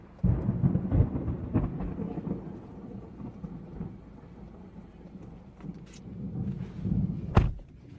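Thunder rumbles from a severe thunderstorm in Wisconsin, a deep rolling boom that swells loud near the start and again toward the end, with a sharp crack at the close, no talk.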